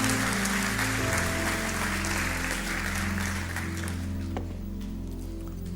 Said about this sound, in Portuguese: Dê o melhor aplauso, você pode dar ao teu Deus